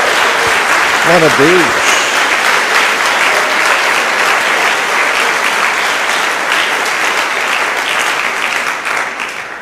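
Church congregation clapping for Jesus, a loud, full and continuous wave of applause that tapers slightly at the end, with a voice briefly calling out near the start.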